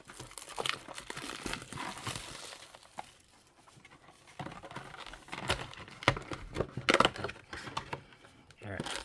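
Plastic wrap being torn and peeled off trading card boxes, a continuous close crinkling and tearing with sharper rips near the end, mixed with talking.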